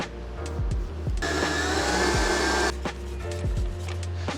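An electric mixer whips cream cheese, double cream, icing sugar and lemon zest for a cheesecake, its loud, steady motor whir close by and swelling into a harsher, brighter burst midway before settling back.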